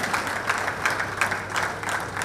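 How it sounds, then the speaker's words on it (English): A round of applause at an ISSF Shooting World Cup ceremony in Bhopal, India, for the 25m rapid fire pistol men's bronze medallist: steady crowd clapping with distinct claps throughout. "please put your hands together for a round of applause for the 25-meter rapid-fire pistol men bronze medal winner"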